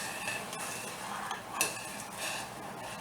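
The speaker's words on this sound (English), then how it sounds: "Stir your macaroni once in a while so it doesn't stick on the bottom." Macaroni being stirred in a pot, with a spoon scraping and clinking against the metal in a few soft, irregular strokes, close but quiet, with no one talking.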